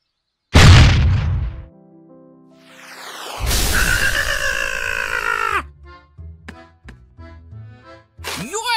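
Missile explosions in an animated clash between NATO and Russia: a sharp loud blast, then a longer rumbling boom, followed by scattered short pops and another burst at the end.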